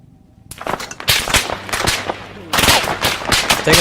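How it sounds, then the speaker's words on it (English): Automatic rifle bursts ring out in a military firefight in ArmA 3, starting abruptly after a brief quiet and continuing in loud, rapid volleys with several distinct bursts, fairly close. "Taking fire from that objective."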